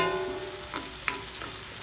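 Hot oil sizzles steadily as a spoon scrapes and taps the pan a few times during tempering for tomato chutney, close by, with no voices.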